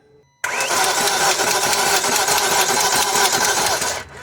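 A BMW E39 V8 engine runs near the timing chain area, a loud, busy mechanical clatter that begins abruptly after a quiet moment and then holds steady until it fades at the end.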